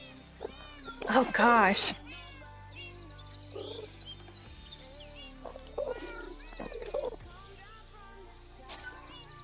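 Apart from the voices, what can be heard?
cat meowing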